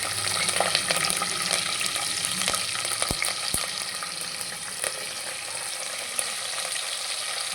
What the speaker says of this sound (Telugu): కరేపాకు పట్టాలండి